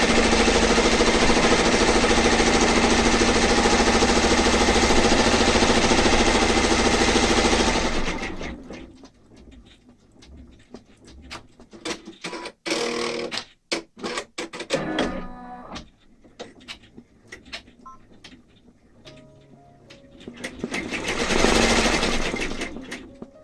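Embroidery machine stitching out a table runner design, a loud rapid mechanical chatter running continuously, then stopping to quieter intermittent clicks and handling noises before the whirring stitching briefly returns near the end.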